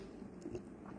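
Someone chewing salty chicken up close, with a couple of soft, wet biting crunches over about a second; no talking.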